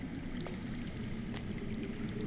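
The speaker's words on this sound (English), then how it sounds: "I hear water. From underground." Underground water flowing in a Game of Thrones video game, a steady continuous rushing wash with faint splashy accents, heard alone at moderate level throughout.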